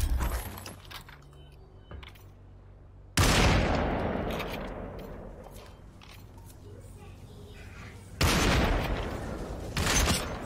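P90 gunfire in the VR shooter Population One comes in sharp, loud bursts, a short one early, a long volley in the middle and another late, with chatter and gear noise between them.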